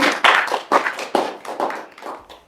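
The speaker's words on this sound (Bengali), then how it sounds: "সবাই একটু রাফির জন্য তালি দিয়ে দাও।" A small group of people clap for a boy named Rafi after he wins a ten-fruit challenge, several loud bursts of close applause in quick succession that fade toward the end.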